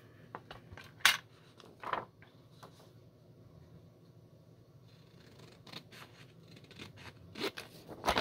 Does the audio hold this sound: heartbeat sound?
no